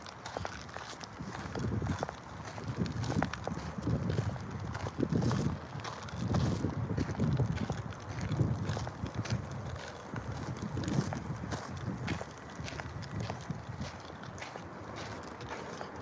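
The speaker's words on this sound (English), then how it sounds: "This is a nice wind too." Wind gusts across a microphone outdoors, a steady low rumble with rising and falling surges throughout, fairly loud and with no talking.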